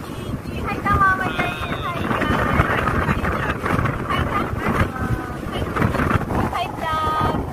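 Strong wind gusts buffet a boat at sea on a trip in Zambales, with the roar of wind and engine steady and loud throughout while people shout and talk over it.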